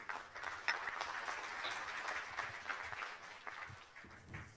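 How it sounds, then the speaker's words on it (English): An audience at a business conclave applauds. The clapping is faint and distant, a dense even patter that holds for several seconds. "Can we have big round applause for him?"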